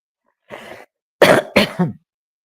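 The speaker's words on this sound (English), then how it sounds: "I have this terrible cough" A person coughs in three bursts: one softer, rougher cough first, then two loud, harsh coughs close together, near and with no talking.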